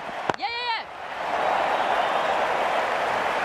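Women's Premier League cricket crowd at an UP Warriorz vs Delhi Capitals match roars steadily after a brief high whistle-like tone, a dense broadband wash of cheering that holds loud and unbroken to the end.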